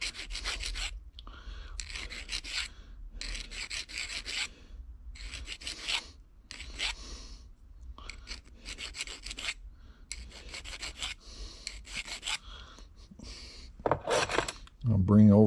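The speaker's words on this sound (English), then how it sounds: "Get my file and just lightly file this here just to break the burrs." A hand file rasps across a freshly machined metal bearing spacer to break the burrs, giving repeated short scraping strokes in an uneven rhythm, close and clear, with a brief clatter at the end.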